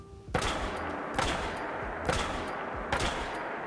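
Gauss projectile energy weapon from a Fallout 4 mod fires four sharp, heavy shots at a slow, steady pace, each crack ringing out with a short decay and no talk.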